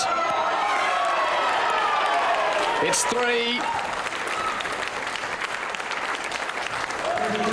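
Crowd applauding and cheering at a 2007 women's World Cup lawn bowls singles final, a steady broad wash of clapping throughout with a commentator talking over it.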